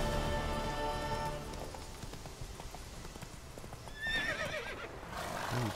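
A horse in The Witcher 3 lets out a loud, wavering neigh close by, heard near the end over steady clip-clopping hooves and busy game ambience.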